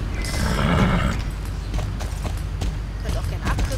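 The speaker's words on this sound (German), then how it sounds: "auf jeden Fall reitet ihr jetzt einfach mal diesen Weg hier entlang" In the Star Stable Online game, a horse neighs and whinnies while hooves clip-clop steadily along a path during riding, up front and clear, with a background game soundtrack.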